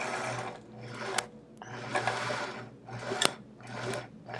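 A sewing machine stitches quilting in the ditch on a chevron quilt, whirring in steady bursts that swell and ease as the fabric is guided, with a few sharp clicks between runs, close and fairly quiet.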